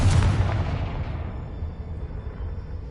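A Confringo blasting spell explodes in a Harry Potter video game, a loud boom at the start that decays into a long rumbling tail over a few seconds, with no talk.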